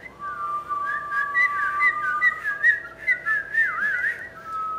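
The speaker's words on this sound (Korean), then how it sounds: "휘파람을 불 수 있나요?" A person whistles a wavering, warbling melody up close and clear, with no talk over it and only faint room noise underneath.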